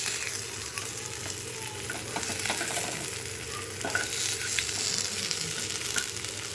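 Fish coated in masala fries Tamil Nadu style in hot oil, giving a steady, close sizzle with scattered crackles and spatula scrapes throughout.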